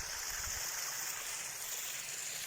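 Loud, steady rushing water fills the scene, a constant broadband roar like a fast stream or strong outflow overflowing into a backyard tilapia pond, with no voices.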